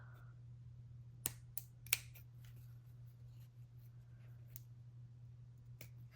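Scissors snip a slit in paper for a craft wine topper, a few sharp, quiet clicks spaced apart over a steady low hum.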